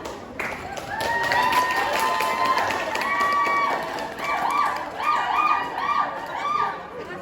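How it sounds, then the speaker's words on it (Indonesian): Spectators at a campus theatre show applaud two athletes, clapping mixed with shouts and cheering voices that swell and continue steadily throughout. "Oke, berikan tepuk tangan sekali lagi buat kedua atlet kita."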